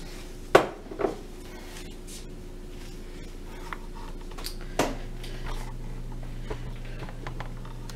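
A bowl of shrimp is lifted and set down in a home kitchen, giving a couple of close, sharp ceramic clinks near the start and a softer knock later, with quiet room noise between.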